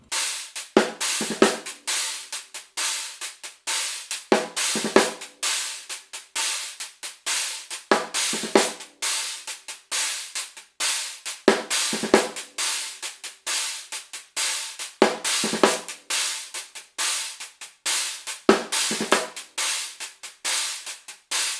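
A slow, sparse drum pattern of sharp hand-struck hits, snare and cymbal strokes spaced evenly with quiet gaps between, played with right and left hands only, no bass drum, no voices.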